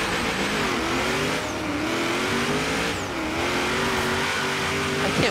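A rally car's engine revs and races steadily in the Forza Horizon video game, with a continuous loud drone that rises and falls in pitch as it accelerates and shifts.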